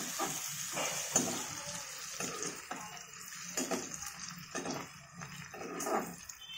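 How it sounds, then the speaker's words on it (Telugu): Grated ginger frying in a pan for a ridge gourd and chana dal curry, giving a steady close sizzle with bursts of stirring and scraping and no voices. "ఇప్పుడు అల్లం తురుము, ఇది కూడా కాసేపు వేగాలి."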